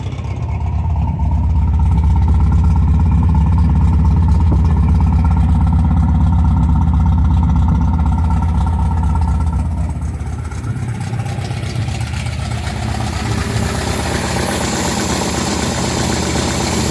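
A 1972 MGB's engine idles loud and close after an oil change, a steady low rumble that eases slightly partway through as the idle is lowered.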